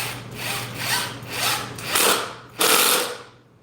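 A drill bores into wooden bench press safety blocks in several loud, grinding bursts of uneven length, with a harsh rasping edge and a steady low hum beneath.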